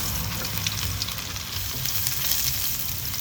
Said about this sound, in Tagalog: So, ilagay na natin ating bawang.